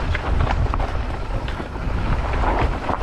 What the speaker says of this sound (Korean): 바람 많은가.